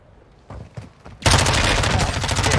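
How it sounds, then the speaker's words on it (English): Sniper gunfire in Warzone 2: a few faint pops at first, then a loud, sustained burst of shooting that fills the rest of the short moment. "I'm getting sniped from the top of the fucking hill."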